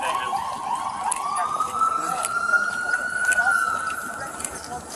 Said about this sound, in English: I think that's the ambulance pulling up.